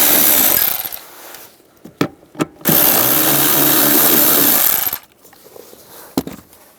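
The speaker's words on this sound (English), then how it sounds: "Using a 10mm socket, take these two bolts out." A 10mm socket on a power driver spins bolts out of interior trim on a 2004-2009 Toyota Prius. Two long, loud whirring runs are broken by a few sharp clacks and a quieter stretch, and nobody speaks.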